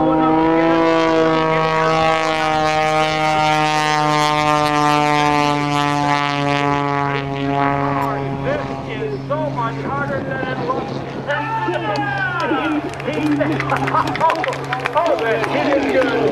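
A Skip Stewart aerobatic airplane in knife edge flight at the Dayton airshow, its engine a loud, steady droning tone that holds throughout, with wind noise over it and an announcer talking.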